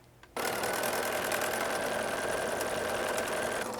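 A sewing machine stitches a lemon-themed quilted tablecloth, kicking in after a brief quiet start and then running as a steady, fast, even whir close by until the end.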